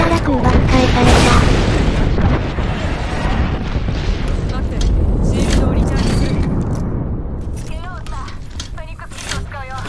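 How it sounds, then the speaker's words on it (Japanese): Airstrike explosions in the Apex Legends game on the Kings Canyon map: heavy booming blasts roll one after another and stay loud through the first half, with a sustained rumble that slowly fades. Speech runs over the top. "空爆したら空爆返された。"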